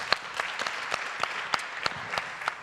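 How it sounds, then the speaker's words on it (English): Scattered audience applause after a speaker is welcomed at a data governance event, with sparse individual claps ringing out in an irregular rhythm and steady crowd clapping underneath. "Give her some applause also"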